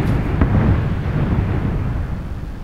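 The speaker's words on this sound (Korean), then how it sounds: "여기서 불꽃놀이 여러분들 잘 보이시죠?" Fireworks in the PUBG Battlegrounds video game, a loud rumbling burst of booms that fades into a lingering low roar, with no talking heard.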